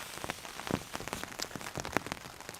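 Rain patters onto a simple canopy shelter at a campsite beside a campfire, a steady close drumming of many small drops with a few sharper louder taps.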